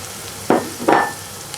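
Chicken hitting hot oil seasoned with fenugreek and coriander, two short loud bursts of sizzle and stirring close by, each fading quickly.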